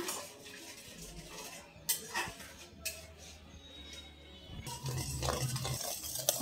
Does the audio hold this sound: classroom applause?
no